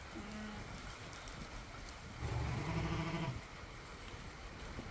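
A Suffolk ram bleats once, a low, rough call lasting about a second, heard close over steady outdoor background noise.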